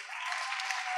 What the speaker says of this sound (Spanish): Un aplauso a sus compañeros.